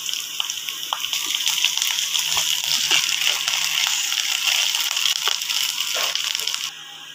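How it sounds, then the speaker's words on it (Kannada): Green chillies and ginger garlic paste frying in a pan for potato Manchurian, giving a loud, continuous hiss and sizzle with occasional crackles and stirring scrapes that drop away near the end. "ಎಲ್ಲವನ್ನು ಚೆನ್ನಾಗಿ ಫ್ರೈ ಮಾಡ್ಕೋಬೇಕು."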